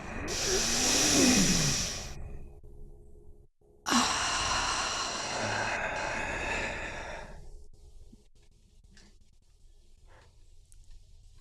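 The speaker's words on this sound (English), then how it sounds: "Deep breath in to affirm." A deep breath in during a guided affirmation: a long, airy inhale up close, a brief silence, then a lengthy, slowly fading exhale with a soft hissing quality, heard alone without talk.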